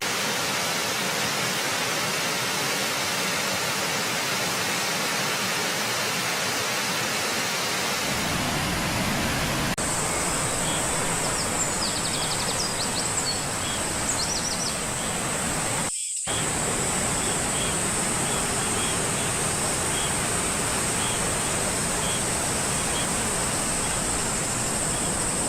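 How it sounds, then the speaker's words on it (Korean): Eungong Falls pours with a steady, full-bodied roar of rushing water that stays constant throughout, broken only by a brief dropout partway through. "첫 번째 목적지인 은공폭포에 도착했습니다. 멋지고 시원한 폭포가 보입니다."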